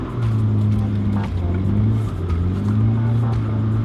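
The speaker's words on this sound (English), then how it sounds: "Keep the throttle more. A little bit more throttle." A Nissan 240SX S14 drift car engine revs and holds steady throttle close up, its droning note rising and dipping in waves for about four seconds with no voices.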